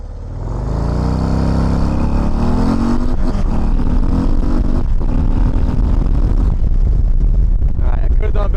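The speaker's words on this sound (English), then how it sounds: "let's do a real quick 0 to 60 pull right here." Harley-Davidson CVO ST motorcycle pulling hard from a standstill to 60 mph, its engine note climbing steadily in pitch through the gears, loud and close with heavy wind rush building underneath.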